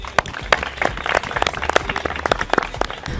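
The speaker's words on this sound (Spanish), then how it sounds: "aplauso" A small group applauds contestants at a Miss Mundo Nicaragua 2024 session, loud close clapping with distinct individual claps, uneven and brief.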